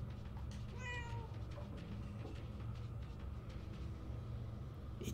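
A cat meows once, short and clear, near the start of a scene in the video game Murdered Soul Suspect, over a low rumbling background.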